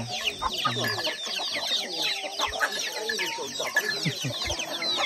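Several chickens cluck and chatter busily nearby, overlapping calls with a faint rooster note in the mix.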